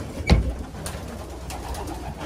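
Racing pigeons in a loft give soft, low cooing calls, with one closer thump-like coo followed by quieter murmurs in a calm indoor space.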